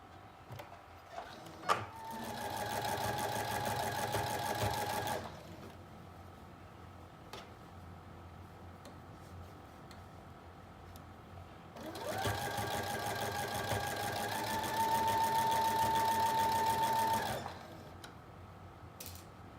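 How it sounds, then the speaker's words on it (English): A sewing machine works a triple stretch stitch around the armhole of a knit dress in two long, steady runs separated by a quiet pause, its motor whirring evenly up close with rapid needle ticking. "I'm doing a triple stretch stitch"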